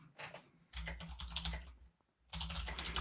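Close, brisk typing on a computer keyboard as a question is entered, with rapid clustered keystrokes in three bursts separated by a short pause and no speech.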